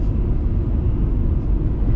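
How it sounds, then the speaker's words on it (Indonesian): Steady low road rumble from the front tires fills the cabin of a 1994 Honda Accord Cielo while driving, a continuous dense drone with no voices over it. "suara dari ban depan itu masuk ke dalam kabin"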